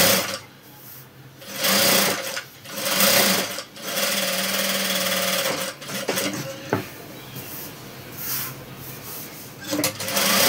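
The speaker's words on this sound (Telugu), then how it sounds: "ఇప్పుడు దీన్ని మనం చుట్టూ కుట్టేసుకుందాం." A sewing machine stitches around the edge of a long frock in bursts of rapid mechanical chatter, stopping and starting several times with brief pauses between runs.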